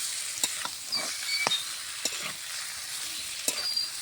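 Mutton curry sizzles steadily as it is sautéed in a pan, with a broadband frying hiss and several sharp scraping stir strokes spread through the clip; no voices.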